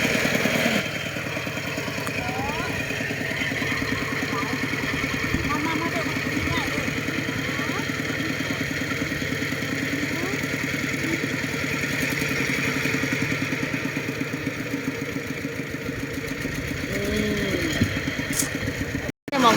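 An engine-driven water pump drains a fish pond, chugging steadily with a mid-pitched, clattering drone that runs throughout, with people talking over it.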